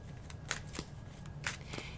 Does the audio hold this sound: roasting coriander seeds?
no